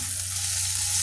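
Onion and garlic sauté in hot oil for an ampalaya (bitter melon) dish, making a steady, close sizzle that hisses on without a break and has no talking over it.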